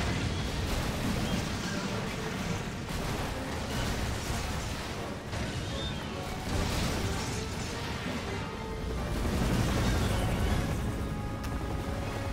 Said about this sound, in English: It's just a whole chain reaction of stuff exploding.